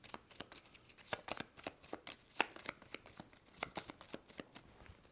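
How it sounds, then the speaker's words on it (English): Playing cards being shuffled at a tabletop game of Star Trek: Captain's Chair, a quick run of crisp riffling snaps and soft slides, close but quiet, with no talking. "Shuffling here."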